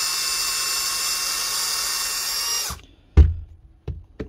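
A faulty Metabo cordless drill motor whines steadily, then cuts out, followed by a few short sputtering bursts as it tries to run again.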